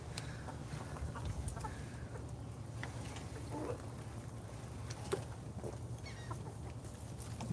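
Chickens clucking outdoors near a work site, a steady low murmur of hen clucks with scattered brief calls over constant background rumble.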